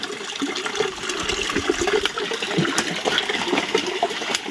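Steady rushing water flows continuously throughout, a full, constant gush with no pauses.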